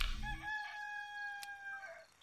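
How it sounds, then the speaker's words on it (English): A rooster crows at sunrise in the video game Black and White 2, one long bright call rising and holding before trailing off, loud and close with a short bright burst partway through. "Making a rooster go hoarse from playing with the planetal alignment."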